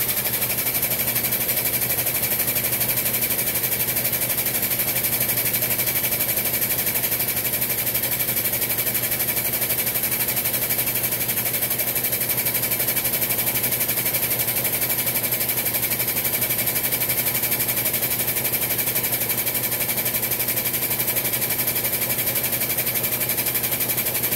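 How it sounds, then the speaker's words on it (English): An air compressor runs during bearing work on a Woods L59 mower spindle, a loud, steady, buzzing mechanical drone continuing without a break. "my air compressor loves this thing"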